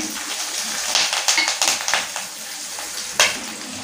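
Mustard seeds, cumin and dried and green chilies sizzle in hot oil for a Saravana Bhavan–style hotel tiffin sambar, a steady crackling hiss broken by sharp popping bursts and a louder spatter near the end.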